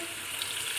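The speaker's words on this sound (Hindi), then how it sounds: "अब हम इसमें थोड़ा सा पानी डालेंगे," A brief rush of water hissing into a hot pan of frying taro (arbi) and turmeric, a steady bright splash for under a second.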